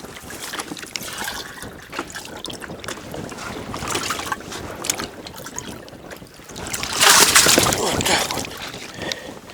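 Water is poured into a sealed fishing bag used as a keepnet outdoors at a fishing spot, a broad splashing gush building up near the end, with wind noise and someone speaking briefly.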